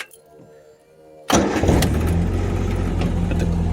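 A 1966 Austin-Healey Sprite engine cranks briefly and catches, then settles into a loud, steady idle close by, after a quieter stretch of background noise.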